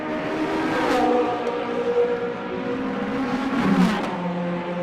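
Porsche race car engine at a SAGTRA race on the track, a harmonic whine that swells and fades as the car passes, with a second quick pass and pitch drop near the end.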